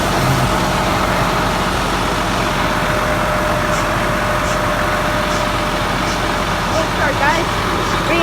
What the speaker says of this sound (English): Guys, really nice cold start.